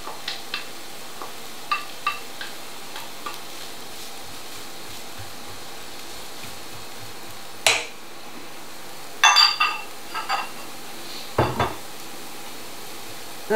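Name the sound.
onions and carrot sizzling in a pan for risotto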